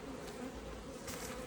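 Honey bees around an open Langstroth beehive during an inspection hum in a dense, steady, close buzz with no pauses.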